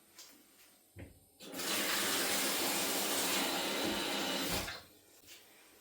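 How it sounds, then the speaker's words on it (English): Tap water running steadily into a pan of 500 grams of peeled, chopped potatoes, a loud continuous splashing gush lasting about three seconds, with faint clicks of the tap before and after. "I'm going to cover these in water."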